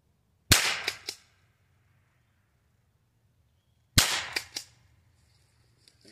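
Two sharp rifle shots from a Henry H003T lever-action rifle crack out a few seconds apart, each a loud isolated report with a short echoing tail, fired outdoors at a target with no talk.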